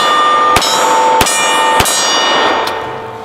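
Bullets from a Remington RM380 pistol strike a steel target at close range, three sharp metallic clangs evenly spaced and a fainter fourth, each ringing on with a bright, bell-like tail.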